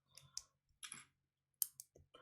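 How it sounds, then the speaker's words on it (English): Faint, scattered clicks are heard during a LEGO Pokémon building live stream, with a few sharp taps arriving in small irregular clusters amid near silence. "Do you guys hear the clicking noise as well?"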